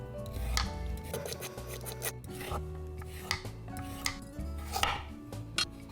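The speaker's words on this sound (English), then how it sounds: "Next, peel the carrot." A carrot is peeled in a kitchen, producing repeated short scraping strokes in an uneven rhythm, close and fairly quiet, with occasional light knocks and no voices.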